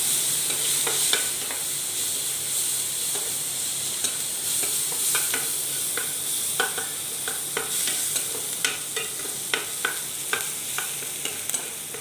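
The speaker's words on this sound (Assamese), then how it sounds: "এই পিঁয়াজখিনি এতিয়া মই অকণমান ভাজি ৰঙা কৰি যোৱালৈকে" Onions sizzle steadily in a hot pan, with scattered crackles and pops, and a few sharp stirring clinks against the metal, close and continuous.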